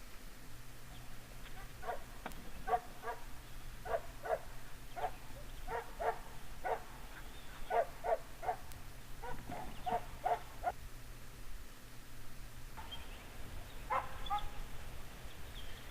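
A dog lets out rapid, repeated yelps and whines in bursts, fairly distant, over a low steady hum, with a pause before a final burst.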